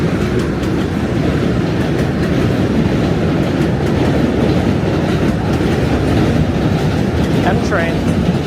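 An M subway train rumbles loudly and steadily across the Williamsburg Bridge in New York City, a continuous roar of rolling wheels and rattling cars, with a brief squeal near the end.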